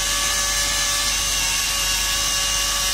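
An HP LaserJet 1020 printer with a faulty laser scanning unit gives off a steady, high-pitched whirring drone, constant and fairly loud with no pauses or talk.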